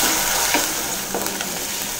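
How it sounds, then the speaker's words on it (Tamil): Sliced onions fry in hot oil for a fish curry, a loud, close, steady sizzle with a few faint stirring scrapes in the pan. "இப்போ இது எல்லாத்தையும் நல்லா கலந்து விட்டுட்டு எண்ணெயில் நல்லா பொன்னிறமாக வறுத்துக்கலாங்க."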